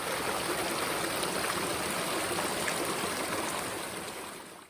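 Waterfall rushing continuously, a dense, even roar of falling water close by that holds steady for several seconds before easing slightly at the end.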